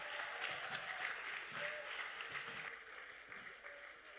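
A church congregation claps continuously in praise, a dense steady patter of many hands that holds throughout and eases slightly toward the end, with faint voices mixed in.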